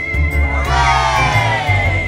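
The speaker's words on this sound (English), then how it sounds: "They thanked Thomas and gave him a big cheer." Toy miners give a big, loud group cheer in a stop-motion Thomas toy scene, a steady burst of children's shouting and whooping that holds throughout.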